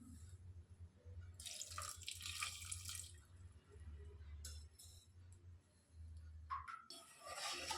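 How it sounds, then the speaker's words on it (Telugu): Water poured into a pot of jaggery for making syrup, a faint, close splashing and trickling in short bursts with small clinks, separated by quiet gaps and a low steady hum. "కొద్దిగా వాటర్ పోసుకోవాలి."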